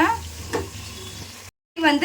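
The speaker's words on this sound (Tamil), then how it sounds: "இப்போ அப்படியே கொஞ்சம் வதக்கிவிட்டே இருங்க" Vegetables frying with turmeric in hot oil in a pan for a South Indian kuzhambu, a loud close sizzle with stirring scrapes, briefly cutting out before resuming.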